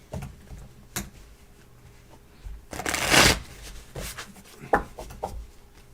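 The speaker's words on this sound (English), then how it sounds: "This deck shuffles like butter." A deck of tarot cards being shuffled indoors, with scattered light taps and rustles and one louder riffling burst in the middle.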